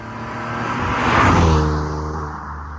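A 1996 BMW 323i E36 drives past, its engine note swelling to a loud peak at mid-pass and then easing away with a falling pitch, no voices.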